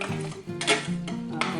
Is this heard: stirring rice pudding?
yes